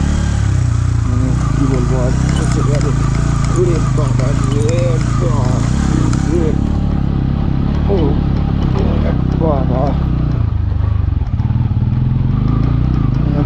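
A motorcycle crawling in first gear over a rocky off-road track between Gnathang valley and Icche Gaon in Sikkim, its engine droning loud and steady throughout while a rider talks over it.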